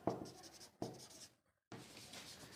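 Chalk or marker strokes on a board during a Hindi-medium Class 10 NCERT maths lesson, two bursts of scratchy writing separated by a short silent gap, then a longer stretch of writing, close and clear with no talking.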